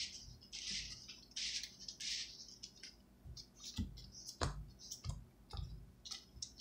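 Yu-Gi-Oh cards being shuffled by hand in close, repeated bursts of crisp riffling and clicking, with brief pauses between each shuffle.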